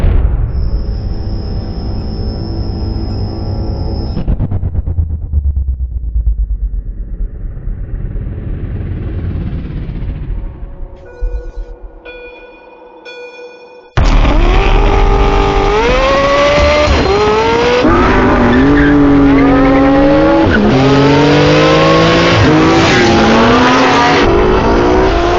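A Porsche 918 Spyder and a 991 GT2 RS launch hard from a traffic-light start in a 0-60 dash, engines roaring loud and close, revving up through repeated rising gear pulls with no talking.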